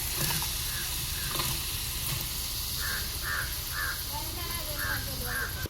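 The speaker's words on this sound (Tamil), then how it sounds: "நல்லா கிளறி விட்டுக்கலாம்" Garlic and tomato being stirred in a sizzling pan, a dense steady frying hiss with crows cawing repeatedly nearby and voices in the background.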